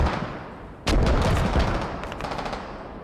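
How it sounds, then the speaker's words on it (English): Smoke mortar rounds landing in the military shooter game Squad: after a quieter rumble, a sudden heavy impact, then rolling rumbling and crackling blasts that gradually fade. "smoke mortars landing here"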